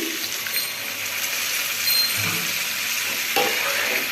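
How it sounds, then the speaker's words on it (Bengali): Hot water poured into a frying chili mixture made with flour, a steady hiss and sizzle with faint liquid splashing, loud and close, with no voices. "এক কাপ মতো গরম জল দিয়ে দিচ্ছি"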